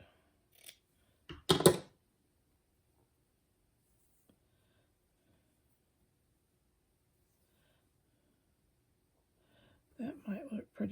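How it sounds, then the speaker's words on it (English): Scissors cut quilting fabric into a strip with a couple of short, crisp snips near the start. A long quiet stretch follows, then a voice talks at the end. "So I'll cut it into a strip."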